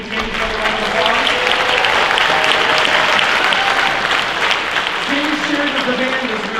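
A school audience at an elementary band concert for fourth and fifth graders claps steadily throughout, a dense, loud wash of applause with faint voices and a few tonal sounds underneath.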